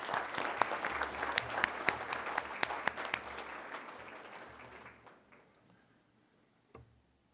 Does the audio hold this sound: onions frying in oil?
no